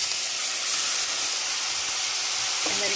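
Shrimp sizzling in hot extra virgin olive oil in a pan, a steady bright hiss that holds evenly throughout with a faint clink near the end.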